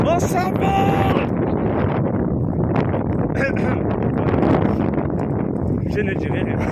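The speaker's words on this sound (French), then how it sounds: "Putain, le vent, il est debout, on s'envole." Strong wind buffets the microphone in steady, loud gusts on an outdoor walk, with rustling throughout as people talk over it.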